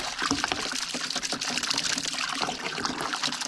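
Cleaning agent pouring into a sprayer tank, a brief splashing, gurgling stream of liquid heard up close and fairly loud, with no talk over it.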